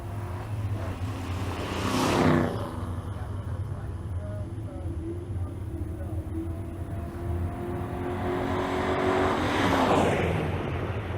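A stick-shift Fox Mustang drag racing down the left lane at State Capitol Raceway, with a loud engine roar sweeping past around the second-two mark, a steady engine drone through the middle, and a second rising pass near the end.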